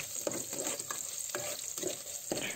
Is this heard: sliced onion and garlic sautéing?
yes